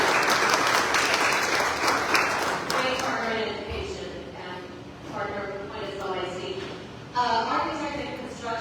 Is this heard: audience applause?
yes